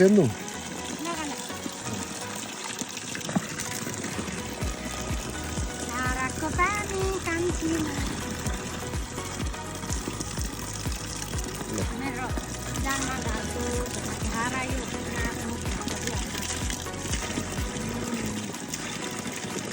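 Water runs from a village dhara spout in the Rubi Valley of Nepal, a steady trickling and splashing flow heard close up while people talk over it throughout.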